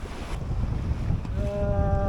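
A sailboat under sail with its engine off, crossing the Malacca Strait: steady wind buffets the microphone over the rumble and slosh of water against the hull. A faint high tonal whine enters near the end. No talking.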